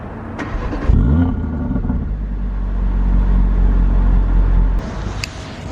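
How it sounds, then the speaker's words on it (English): A 2022 Audi RS3 set to dynamic mode starts with a loud starter whir and then catches into a deep, rumbling idle. The engine swells slightly before it cuts off, and nobody speaks. "I'll start the car up in efficiency mode to start with, or actually I could even do dynamic"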